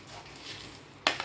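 A spoon stirs peanuts, coconut and curry leaves in a pan with a soft, faint scraping, then one sharp metallic clink near the end.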